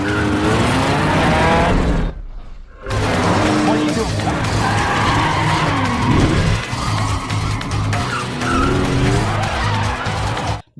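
A car chase with robbers fleeing police after a shootout unfolds with roaring engines and repeated skidding tire squeals. The sound is loud and continuous apart from a brief drop near the start, and voices speak over it.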